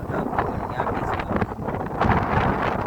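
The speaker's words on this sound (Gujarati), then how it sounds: "પવન બહુ છે, પવન આમાં કેપ્ચર થતું હશે એવી રીતે છે" Strong wind buffeting the microphone in an open field during tractor ploughing, a continuous low rumbling roar with gusty surges and no clear voices.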